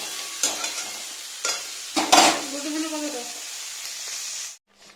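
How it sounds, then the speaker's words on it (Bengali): Mixed vegetables nearly cooked through being stirred in a pan, steady sizzling with a few louder scrapes and clatters of the spoon against the pan, up close, then cutting off abruptly near the end. "আমি এটা একটু নেড়ে চেড়ে দিচ্ছি প্রায় সবজিটা সবজিটা সেদ্ধ হয়ে গেছে"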